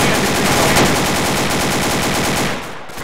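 Rapid automatic gunfire from a video game firefight rattles in a dense, continuous burst for nearly three seconds, loud and close, then cuts off abruptly.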